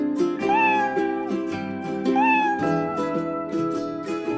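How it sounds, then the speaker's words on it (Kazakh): A domestic cat meows twice, close and loud, each call a long drawn-out wail with a rising then falling pitch, and a brief pause between the two. "Мысық мяулайды."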